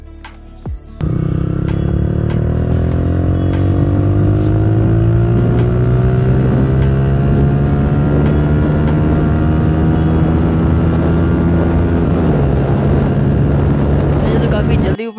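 A Yamaha YBR125 motorcycle accelerates hard in third gear during a top speed run, its loud, close engine drone rising steadily in pitch for about fourteen seconds, with a brief dip near the end as it keeps pulling.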